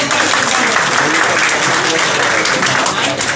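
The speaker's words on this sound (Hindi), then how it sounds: "एक बार जोरदार तालियों से" Loud, dense audience applause at a Congress minority cell political gathering in Bhiwandi, steady sustained clapping throughout with crowd noise and no break.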